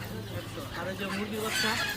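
Tiger chickens cluck at a busy weekly poultry market in Fatullah, with scattered fowl calls mixed into steady crowd noise and nearby voices talking.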